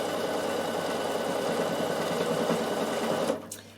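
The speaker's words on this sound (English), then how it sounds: "So I'm just going to straight stitch up my seam." A Bernina sewing machine straight-stitching a seam in knit fabric, its rapid, even mechanical whirring running steadily up close before stopping abruptly near the end.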